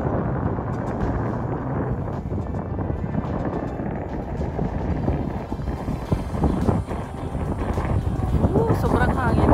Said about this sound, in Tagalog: Sobrang hangin guys.